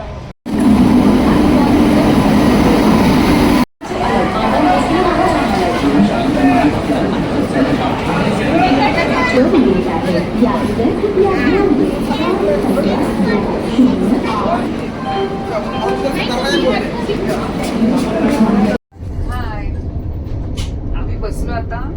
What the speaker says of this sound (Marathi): हे आहे नागपूरचं रेल्वे स्टेशन आणि आता आम्ही पोचलो आहे रेल्वे स्टेशनला